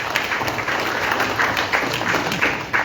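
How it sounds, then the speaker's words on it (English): A crowd applauds steadily, dense clapping from many hands rising and falling slightly in intensity throughout. "let's give her a really, really, really big round of applause"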